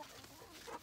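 Chickens in a garden chicken tunnel set between crop rows give a few short, soft clucks, fairly faint against outdoor background.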